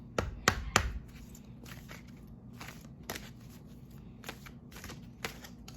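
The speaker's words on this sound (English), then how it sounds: "let me just shuffle for a minute, because one got stuck in my fingers" Tarot cards being shuffled in a series of sharp riffling bursts, loud at first and then softer, with a steady low hum underneath and no talking.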